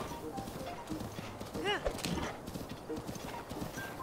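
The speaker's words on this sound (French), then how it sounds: "ça va quand même vachement plus vite à cheval" A horse gallops in The Legend of Zelda: Breath of the Wild, a fast rhythmic clip-clop of hooves with a brief whinny, running steadily under game music and someone speaking French.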